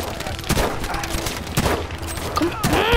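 Rapid gunfire from the video game Battlefield 5, a dense burst of overlapping shots and impacts through three seconds, loud and close, with brief voice-like sounds mixed in.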